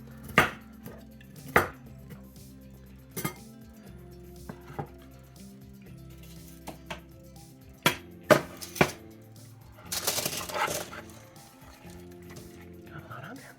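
Vegetable florets rough-chopped for a vegan pot pie, a knife striking a board in irregular sharp knocks with a short flurry of quick chops near the end, under intermittent talk.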